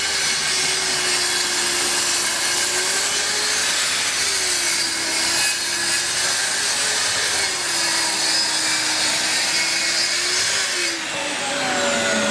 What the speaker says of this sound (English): I'm going to be using a plunge saw to cut this